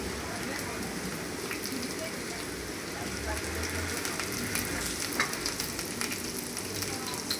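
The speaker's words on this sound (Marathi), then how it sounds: "त्यामध्ये थोडीशी कोथिंबीर टाकू, म्हणजे कोथिंबीर तेलामध्ये थोडी परतली जाईल." Peanuts and chopped coriander fried in hot oil in a pan, a dense, continuous crackling sizzle like heavy rain, fairly loud and close throughout, with a few brief spatters standing out.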